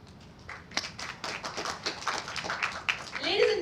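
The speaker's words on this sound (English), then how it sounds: "So a round of applause for that." Audience at a press meet for a concert at the Sheraton Hotel claps, a scattered round of applause building over a few seconds, fairly close, with a voice briefly heard at the end.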